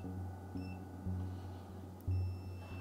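A multimeter beeps briefly on a continuity test during a claw machine repair, with short high tones near the start and a longer steady beep partway through, fairly faint over a low electrical hum.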